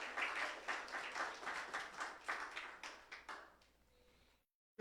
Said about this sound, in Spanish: Give a hand to the Lord.